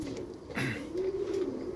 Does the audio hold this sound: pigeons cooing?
yes